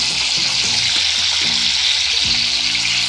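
Chopped tomatoes going into hot cumin tempering in a pan, a steady loud hiss of sizzling oil with brief low clunks, no voices.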